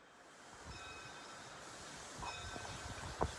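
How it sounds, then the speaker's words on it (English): Steam train number 9 arriving at Sheepscot Station, a faint distant rumble of rail wheels and hissing that slowly builds, with a brief metallic clank near the end. "You can hear number 9 coming into Sheepscot Station right behind me."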